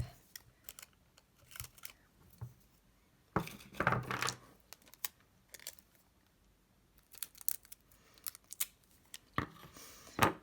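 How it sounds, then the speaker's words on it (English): Scissors snip small thin strips of sellotape for paper puppets, giving a series of short, close, crisp cuts and rustles spaced irregularly, with no talking. "it's probably a good idea to cut 2 very small bits of sellotape"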